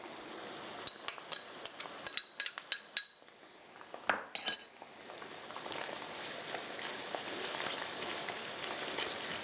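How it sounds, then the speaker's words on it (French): Tofu roasting in a pan for a summer vegetable stir-fry, with a few sharp utensil clinks early on, then a steady, soft hiss of sizzling. "pendant que notre tofu se fait rôtir un peu"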